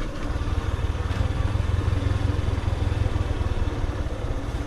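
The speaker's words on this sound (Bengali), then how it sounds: "বাইকটাকে এক নাম্বার গিয়ার দিয়ে জাস্ট ইঞ্জিন ব্রেক ইউজ করে করে আস্তে ধীরে নেমে যাবো এখান থেকে" A motorcycle creeps down a steep dirt slope on the Tindu trail in Bandarban in first gear, using engine braking. Its low, steady engine drone sounds close and loud throughout, with a faint rapid pulsing and no talking.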